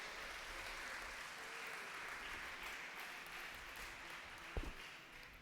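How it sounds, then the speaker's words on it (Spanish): A church congregation at an evening service applauds in a soft, even wash of clapping that continues throughout, fairly distant, with one brief sharp knock near the end. "levante ese aplauso al Rey de Reyes en esta noche"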